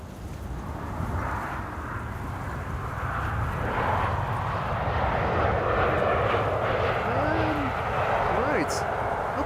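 An airliner roars past at Amsterdam Schiphol Airport, its jet engine noise building into a loud, steady rumble with wind buffeting the microphone.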